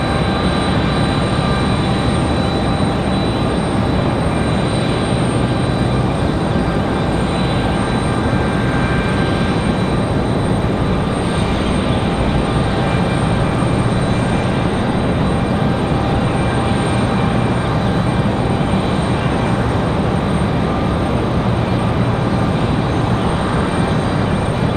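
American Airlines Boeing 777 in oneworld livery arriving at Raleigh-Durham from Charlotte: a loud, continuous jet roar with steady high engine whines laid over deep rumble, unbroken and without voices.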